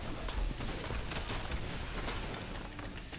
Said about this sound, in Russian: Взрыв при приземлении.